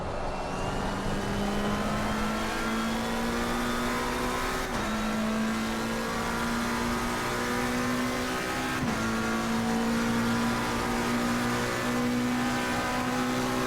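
A McLaren race car at Monza in a racing video game runs a steady, loud engine drone, pitch climbing through the gears with two brief shift breaks.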